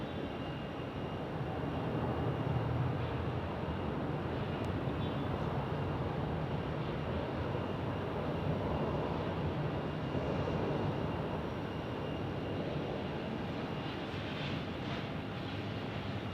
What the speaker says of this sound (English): there's United Airlines is flying by